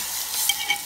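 A spoon works through beef simmering in a pot for a home-made Kenyan curry, giving a soft sizzle with a few light scraping clinks near the end, close up and steady, and nobody speaks.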